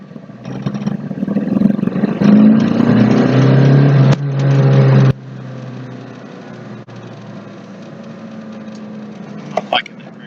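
A TDI car with a boost problem accelerates at full throttle in second gear, the engine note rising under load for a few seconds before cutting off abruptly, then settling to a quieter drone; a voice speaks over it.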